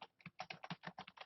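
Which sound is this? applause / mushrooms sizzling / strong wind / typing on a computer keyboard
typing on a computer keyboard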